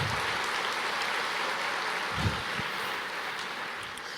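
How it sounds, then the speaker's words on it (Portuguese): Steady, fairly quiet applause from a church congregation during a Portuguese-language sermon, a dense even wash of clapping held at one level throughout with no voices on top. "Aplauda o Senhor."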